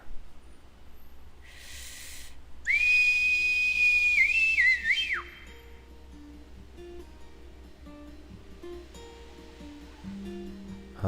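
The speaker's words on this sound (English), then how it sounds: "long, clear whistle pierces through the air" A long, clear, steady whistle holds for about two seconds and then slides downward, loud over a quiet game background, followed by softer musical tones.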